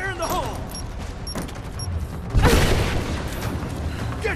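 A single loud explosion bursts in Rise of the Tomb Raider, a sharp blast after a stretch of mechanical clanks and creaks, followed by a lingering rumble.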